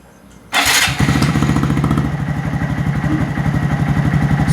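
A 2019 Honda Monkey 125 fitted with a Yoshimura RS-3 full system exhaust starts up after a short quiet moment, then settles into a steady, close, rapid-pulsing idle that stays loud and even.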